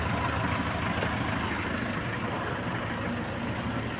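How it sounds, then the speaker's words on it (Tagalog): A bus engine idling with clean, smoke-free running, a steady broadband rumble and hum held close and even for the whole stretch, with no talk over it. "Napakaganda ng makina."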